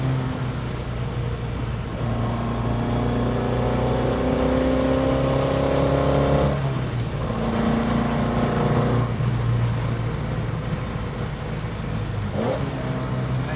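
A 1960 Lotus Elite's engine accelerates close and loud from inside the car, pitch rising through third and fourth gear with clear drops at each shift.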